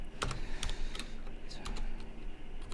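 Computer keyboard typing at a desk while entering a short line of text into a file, a quick irregular burst of close clicky keystrokes with no talking.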